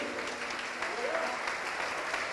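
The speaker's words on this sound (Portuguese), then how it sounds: "Vamos aplaudir mais, igreja." A church congregation applauds during a worship service, a steady, fairly soft patter of clapping spread across the room, with a faint voice or tone briefly rising above it.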